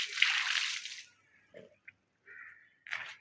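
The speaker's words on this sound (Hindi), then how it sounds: "पौधों में पहले पानी डालो" Water poured onto garden plants, a broad splashing gush for about a second, then scattered softer splashes and trickles with gaps of quiet between them.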